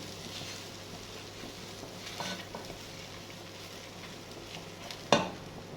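Broth goes into a hot pan for grilled kofta and basmati rice, giving a soft steady sizzle with light stirring and faint scraping, then a sharp clink of a utensil against the pan near the end.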